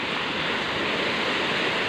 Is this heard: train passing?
no